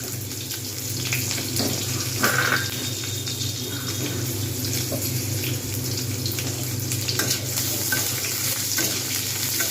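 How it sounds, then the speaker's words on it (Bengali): Onions frying in a pan with cumin for Bengali masoor dal, a continuous close sizzle broken by stirring scrapes and clatter, alone without talk. "পেঁয়াজগুলো কিন্তু খুব সুন্দর করে আমি এখানে ভেজে নেব।"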